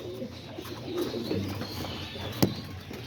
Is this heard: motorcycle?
no